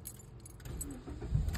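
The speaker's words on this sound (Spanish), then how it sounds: "Le apagamos el carro, patrón." A 2010 Toyota Corolla is switched off while parked, with keys jangling and a low engine rumble settling, heard up close inside the car.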